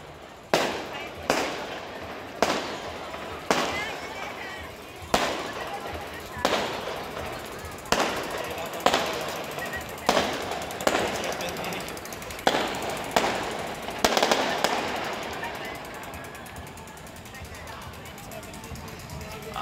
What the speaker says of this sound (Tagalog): Ayan, ayan muna natin fireworks.